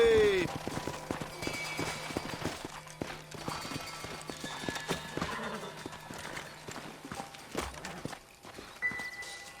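Horses in the Red Dead Redemption video game clip-clop at a steady walk over a dense mix of hoofbeats and game ambience, with a horse whinny near the start.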